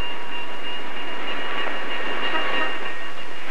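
A freight train rolls along the rail line at dusk near Kansas City, a steady loud rumble and wheel hiss with a sustained high tone throughout.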